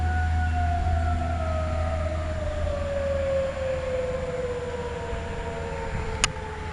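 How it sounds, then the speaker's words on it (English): A tornado warning siren wails steadily in the distance outdoors, its long falling tone sweeping down over several seconds, loud and alone with no talk. "Tornado sirens turned off."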